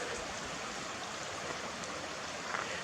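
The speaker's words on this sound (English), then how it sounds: "There's a little creek area runs through here." A small creek flows along a wooded hillside on a trail, giving a steady, faint babbling rush of water with no voices.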